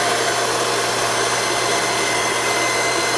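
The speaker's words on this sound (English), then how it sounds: "I'm just gonna take my blow dryer and put it on the cool setting right here, because cold air makes it dry faster" A blow dryer on its cool setting drying a wig, a loud, steady close-up whirring rush of air with a constant low hum, running without pause and without talk.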